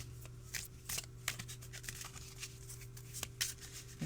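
Soft papery card handling from a Tarot des Fleurs deck being cut, a scatter of light riffling taps and slides spread across the stretch, faint and close with a low steady hum beneath and no talking.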